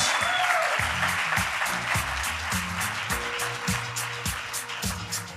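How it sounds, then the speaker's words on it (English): A comedy show audience applauds steadily and fairly loudly throughout, with a thumping, bass-heavy music beat running underneath the clapping. "Please give her a big round of applause."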